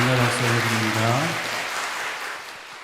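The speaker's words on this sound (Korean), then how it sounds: "은혜의 공감 박수 올려드립니다" A church congregation at a Sunday service applauds in a broad, sustained wash of clapping under a held sung or spoken tone, gradually fading toward the end.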